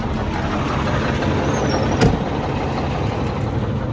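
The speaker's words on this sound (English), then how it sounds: "The engine still sounds a little" A loud, steady, slightly choppy idling truck engine rumbling close by, with a brief sharp knock midway and a faint squeal.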